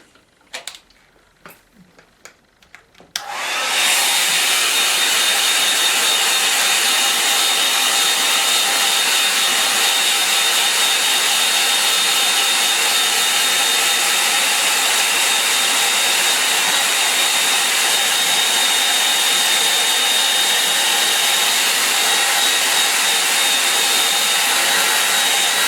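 A hair dryer blows steadily over a freshly painted watercolour scene. It starts abruptly after a few seconds of faint tapping and clatter, then runs loud and unbroken at close range.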